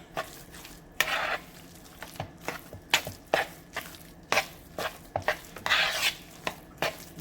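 A black bean burger mixture with flaxseed egg replacer being stirred in a bowl: repeated wet, sticky squelches and utensil scrapes in an uneven rhythm, close and fairly quiet, with no talking.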